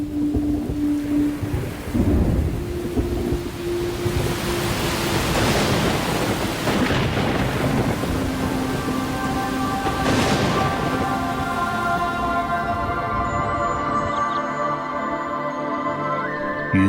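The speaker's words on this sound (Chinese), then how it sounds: "这下雨了，下雨了。" Thunder rumbles and rolls over steady, heavy rain on autumn grassland, with loud, continuous noise throughout and no talking.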